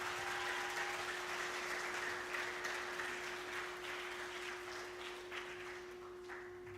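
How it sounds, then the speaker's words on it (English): An audience applauds steadily as a school head principal comes on stage at a student journalism event, a sustained wash of clapping that gradually fades, with a steady electrical hum underneath. "So please give him a round of applause."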